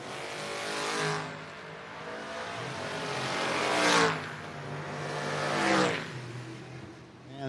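Drag race cars, a Fox Body Mustang and an Oldsmobile, roar down a no-box 660 shootout strip, engines surging loudly in rising bursts as they pass close by, with faint announcer talk under the noise.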